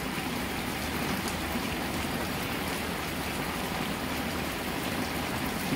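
Heavy rain pours steadily over a village, a dense, unbroken hiss of drops striking the ground and surfaces, close and even throughout with no voices.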